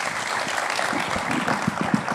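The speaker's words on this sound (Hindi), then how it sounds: "ज़रूर तालियां बजनी चाहिए इनके लिए" Steady, loud applause from an audience honoring champions Praveen Kumar and Avani Lekhara, a dense wash of clapping that holds for the whole moment.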